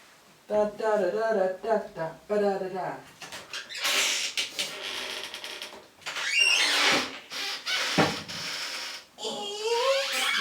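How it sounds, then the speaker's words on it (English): Squeaky cupboard door hinges creak and squeal in several drawn-out, high, wavering squeaks close by as the doors are worked back and forth, with pauses and small knocks in between. "See, look, squeaky cupboards."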